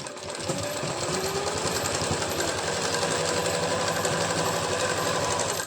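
Sewing machine stitching the fitting seam of a 42-inch belt blouse, a fast, steady mechanical rattle running continuously and close for several seconds without a break.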